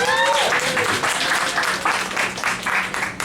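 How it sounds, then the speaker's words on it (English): Audience at a comedy show in a cafe claps steadily, a dense, moderately loud patter filling the whole stretch with no talk over it. "Clap."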